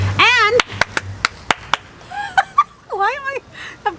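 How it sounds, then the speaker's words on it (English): Several sharp, separate hand claps in quick succession, loud and close, with voiced exclamations between and after them. "why is this person clapping randomly?"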